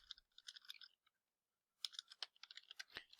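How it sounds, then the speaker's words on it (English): Quick bursts of clicking keystrokes on a computer keyboard, a flurry of typing that pauses for about a second and then resumes, close and fairly quiet. "So I'm going to type out a message."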